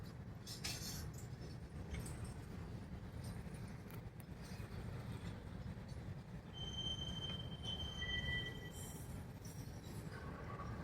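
Freight train hopper cars, including a grain car, rumble steadily past on the CN main line in Vaughan, Ontario with a low, continuous roll, joined by high metallic wheel squeals and faint rattling clanks.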